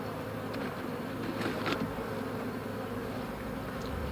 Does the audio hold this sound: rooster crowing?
no